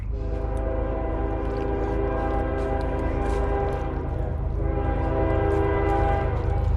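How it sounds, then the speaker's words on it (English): A loud train horn blares in long sustained blasts close by, over the heavy rumble of a passing train. "Of course, there's another train coming"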